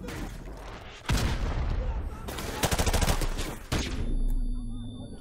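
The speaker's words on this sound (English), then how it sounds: "Where are these shots coming from?" Gunfire in Call of Duty Modern Warfare Remastered, with loud bursts of automatic fire and rapid shots in dense clusters, close and heavy, broken by brief pauses.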